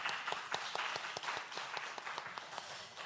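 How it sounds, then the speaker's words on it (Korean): A Korean church congregation at a testimony revival meeting breaks into applause, a crowd clapping with distinct sharp claps standing out in a loose rhythm over a softer background patter. "박수 한번"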